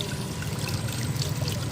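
Hot water runs from a Rinnai instant gas geyser in a steady, close pour with a constant splashing hiss and no break.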